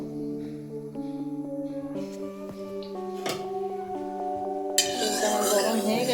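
Cauliflower florets tossed with turmeric in a pan (kadai) of oil for a vegetarian cauliflower-potato dish, with steady metal scraping and clinking of a utensil against the pan over continuous background music, louder sizzling toward the end.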